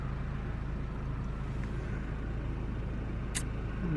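Road traffic rumbling past a parked Nissan Qashqai J10, a low steady roar of vehicles nearby with a swell at the end as one passes closer, no talk.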